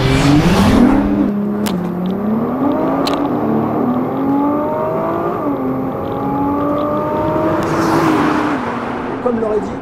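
Nissan GT-R twin-turbo V6 accelerating hard, loud rising engine note climbing through gears with brief shift dips, sustained close roar for nearly ten seconds with faint talk underneath.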